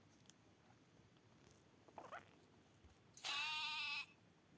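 Sheep bleat in the Hide Online video game, a single loud nasal bleat near the end after a shorter faint one earlier, over quiet game background.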